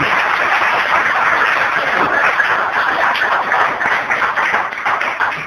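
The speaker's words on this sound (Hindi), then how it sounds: "जोरदार ताली अपने लिए।" A church congregation applauds on Palm Sunday with loud, steady clapping from many hands that fills the room evenly for about five seconds without letting up.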